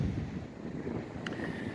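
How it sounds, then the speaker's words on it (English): Gusty wind buffets the microphone outdoors with a constant low rumble and hiss, and a faint brief tone near the end. "A little windy, so I'll talk a little loud so hopefully you guys hear me."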